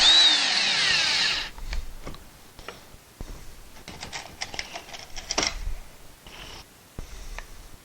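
A power drill drives screws to mount wrenches on a pegboard, opening with a loud, steady whirring run of about a second and a half, followed by scattered close clicks, taps and rattles of handling parts and tools.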